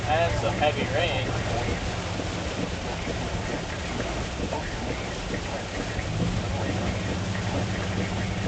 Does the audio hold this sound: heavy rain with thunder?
yes